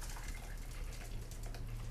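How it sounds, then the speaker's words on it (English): A Pornstar Martini cocktail is poured through a strainer into a martini glass, making a steady, close liquid stream that flows without a break for about two seconds. "Just going to pour this into a martini glass."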